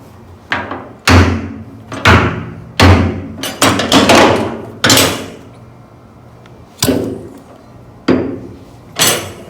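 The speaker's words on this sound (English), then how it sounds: "we can tap on the motor housing and it'll free itself from the bearing housing" Hard metallic taps and thumps strike a brush cutter's motor housing to free it from the bearing housing, coming as a dozen or so loud, irregular knocks, some in quick clusters, others spaced apart.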